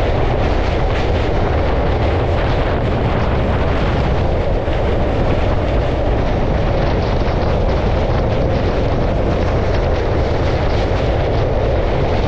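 A local train running from Sealdah toward Tarapith rumbles and roars steadily from inside the coach, a loud continuous wash of wheel and track noise with no voices.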